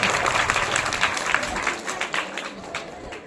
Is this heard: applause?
yes